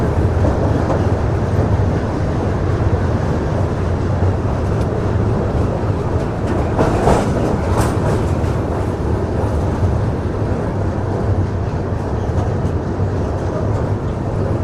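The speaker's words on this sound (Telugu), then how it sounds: "ఏదో ట్రైన్ వెళ్తుంది. ఏంటంటే Secunderabad Guntur intercity express train" Secunderabad–Guntur Intercity Express passing near the Krishna River, heard from a moving train: a continuous loud rumble of wheels and carriages with faint clickety-clack and a brief swell of rushing noise midway.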